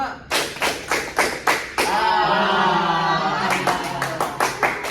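A class claps hands together in a counted pattern, sharp unison claps in a steady rhythm, then a sustained burst of applause and cheering before the paced claps resume.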